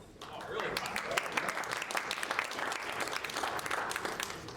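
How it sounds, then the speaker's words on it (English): Audience members at a business talk clap in a fairly steady patter, a moderate burst of many hands that carries through the whole stretch without fading. "we're getting claps already"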